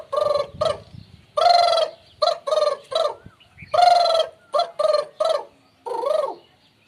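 A man imitates a water hen's call with a series of loud, nasal, honking bursts in irregular groups, separated by short silences.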